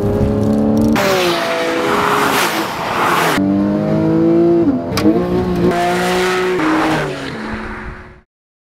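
A 2012 Porsche 911 Carrera's direct-injection flat-six boxer engine revs hard on twisting mountain roads, loud and close, climbing through gears with shifts between long sustained pulls before cutting off.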